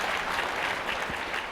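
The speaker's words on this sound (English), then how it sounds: "applaud yourselves" An audience applauding steadily at a Hall of Fame induction event, a dense, continuous wash of clapping from a sizable crowd, loud and close throughout.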